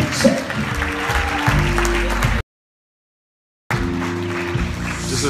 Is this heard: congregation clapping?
yes